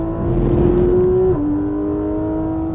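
A car on a race circuit powers out of a corner, its engine droning loud and close with a steady revving tone that steps down briefly at a gear change, then holds on.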